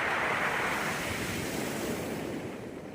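Sea waves roll onto the shore at Luna, La Union, a steady roaring wash of surf mixed with gusty wind buffeting the microphone, fairly faint and continuous without any voices.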